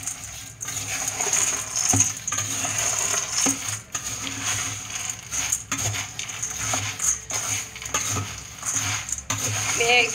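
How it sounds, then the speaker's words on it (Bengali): Fried peanuts and chana dal are stirred together for a Bengali chanachur snack mix, giving a continuous light rattling and scraping of dry pieces against a metal pan, faint and close, with scattered clinks. "এবার আমি সব মিলিয়ে দিচ্ছি একসাথে"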